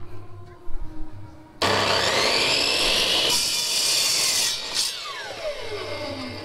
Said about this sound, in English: that's why I brought the chop saw